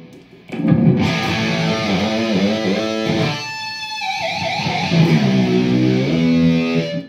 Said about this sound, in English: That's just the amp and the guitar.